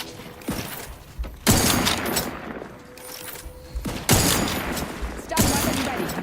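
Rapid bursts of gunfire erupt in The Outer Worlds 2 video game, loud sustained volleys separated by brief pauses, with in-game voices speaking in between.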